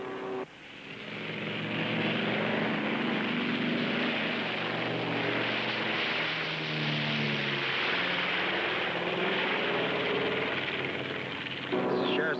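A sheriff's helicopter with jammed trim tabs in flight, its engine and rotor droning loud and steady with a rumbling pulsing throb that holds for the whole stretch.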